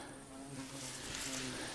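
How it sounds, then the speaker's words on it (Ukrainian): Small reddish mosquitoes buzz close by at a summer crucian carp fishing spot, a thin continuous whine hovering over quiet outdoor background. "Оці дрібні руді комарики, які дуже такі недокучливі."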